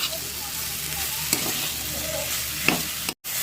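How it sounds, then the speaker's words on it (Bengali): Beans, carrots and peas cook with spices in a pan, sizzling steadily throughout while a spoon stirs and scrapes nearby. A brief gap interrupts the frying near the end. "মশলাগুলোর সাথে আমি সবজিগুলো একটু কষিয়ে নিচ্ছি"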